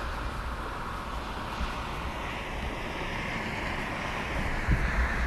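A west wind blows steadily across a lake over a thick pondweed bed along the north shore, heard as a constant broadband rush with light microphone buffeting and no talk.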